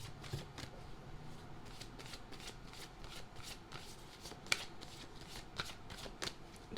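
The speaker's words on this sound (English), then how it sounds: "Just heard shuffle again." Tarot cards being shuffled during a pick-a-card reading, a quiet series of crisp riffles and soft slaps in an irregular rhythm, close to the listener with a few sharper clicks.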